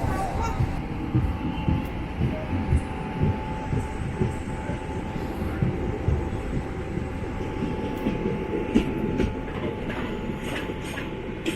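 Garib Rath Express train standing at an unscheduled halt at a station in Kerala, India, with a steady rumbling hum, a faint tonal whine and scattered clanks carrying on throughout, close by.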